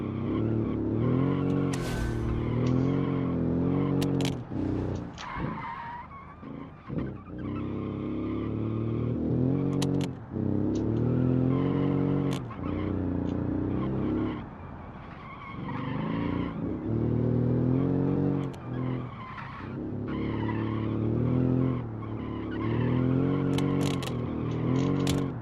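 A 1949 roadster in the racing game Automation, engine droning with pitch rising and falling, tires squealing and skidding as it understeers through corners, loud and steady without talk.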